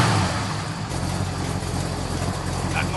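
Classic Dodge Challenger R/T with a 383 Magnum V8 rumbling at idle, a deep steady low burble close by with a brief rise at the start, heard alone without talk.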